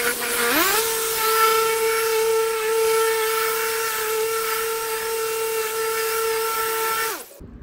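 A car polishing machine buffing paint, a steady high whine that ramps up at the start, holds even and loud, then cuts off near the end.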